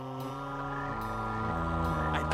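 Cartoon frog croaking in a steady, resonant, buzzing drone that holds closely and loudly from start to end, with a few faint clicks on top.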